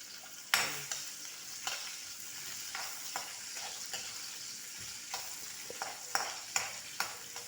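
Onions frying for menudo in a pan, a soft sizzle beneath repeated scraping stirs from a utensil against the metal, irregular clacks every half second or so, fairly quiet with no talking.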